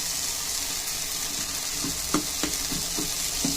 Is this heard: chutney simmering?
yes